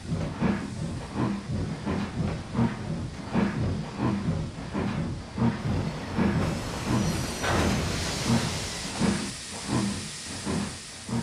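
Steam locomotive from the Trainz railway simulator game hissing steadily, with rhythmic chuffing pulses running through a continuous broadband steam hiss, loud and close with no voices.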